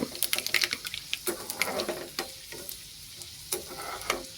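Mustard seeds crackle and sizzle in oil over a low gas flame, sharp irregular pops and spits scattered over a soft, steady frying hiss, close by.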